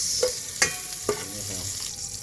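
Annatto coloring hits hot oil in a pan, giving a close, crackling sizzle with a few sharp pops and stirring scrapes over a soft, steady frying hiss.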